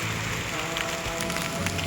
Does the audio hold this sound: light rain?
yes